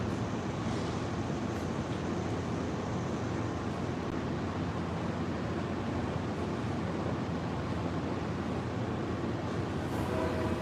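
Passenger train with coaches pulling out of Harpers Ferry, West Virginia, a continuous broad rumble and rolling roar that holds steady for about ten seconds, heard from trackside without speech.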